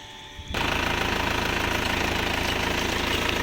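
A car engine cranks and catches, then settles into a steady, close, rhythmic idle during a radiator flush, running alone without talk.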